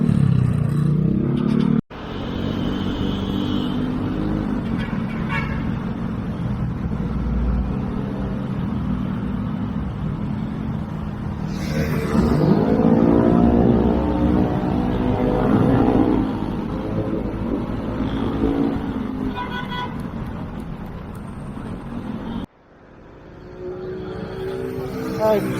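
Yamaha Aerox scooters ride at night through heavy traffic on the way to Tagaytay, giving a steady, loud engine and road drone throughout, with someone talking over it. The sound cuts out briefly twice.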